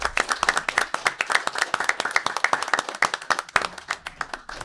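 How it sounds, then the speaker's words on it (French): An audience at a municipal council meeting breaks into loud, close applause, many hands clapping in a brisk, continuous rhythm that holds for several seconds, with no speaking over it. "On peut vous applaudir."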